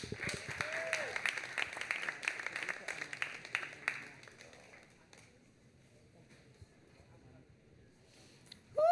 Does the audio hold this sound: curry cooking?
no